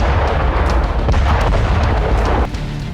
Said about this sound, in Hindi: कुपियांस्क में रूसी सेना ने ताबड़तोड़ रॉकेट दागे